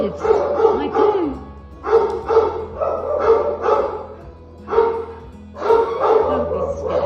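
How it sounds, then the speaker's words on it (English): A litter of frightened Romanian rescue puppies barks and yips indoors in repeated bursts with short pauses between. Nearby voices talk over the barking now and then. "I'm sorry about the barking."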